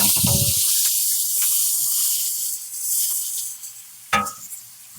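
Masala hitting a hot pan while cooking a ridge gourd (peechinga) curry, giving a loud burst of sizzle at the start that settles into a steady hiss, with a brief clatter near the end.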